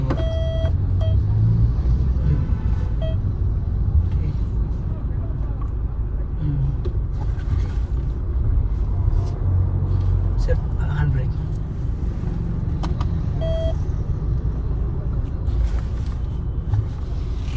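A Mahindra Thar Roxx engine runs with a low, steady rumble inside the cabin on a test drive, with a few short beeps, while a person talks over it.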